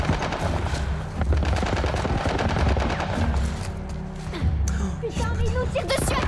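Heavy automatic gunfire from a military turret in The Last of Us, a dense continuous rattle of shots that stays loud throughout, with scattered impacts and a voice speaking over it.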